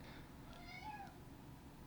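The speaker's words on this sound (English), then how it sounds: "We have a little kitty cat running around." A small cat named Finn meows faintly in a studio, a brief soft mew near the middle over a low steady background hum.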